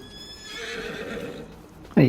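A horse whinnies in the farming video game Farming Simulator 25, a rising neigh swelling through the middle and ending in a loud snort-like burst, with hoof clip-clop faintly beneath.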